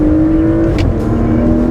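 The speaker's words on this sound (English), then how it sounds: "Let's see if we can reach 200 again in this Macan." A Porsche Macan accelerating hard on the Sepang circuit, a loud, steady engine drone held close and continuous for a couple of seconds, with a faint whistle briefly rising above it.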